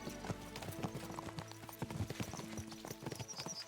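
Horse hooves clip-clopping in the video game Kingdom Come: Deliverance II, a quick, uneven run of soft thuds with a faint whinny, fairly quiet under low ambient noise.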